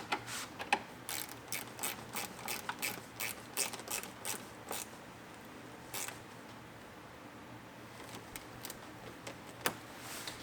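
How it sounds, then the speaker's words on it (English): A ratchet wrench fully tightens the mud flap mounting bolts on a 2022 Chevrolet Silverado 1500 ZR2, giving fast, irregular bursts of sharp clicking that pause and restart, with no talk. "We're going to go ahead and fully tighten those down."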